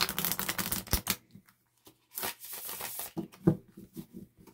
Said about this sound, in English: shuffles like a dream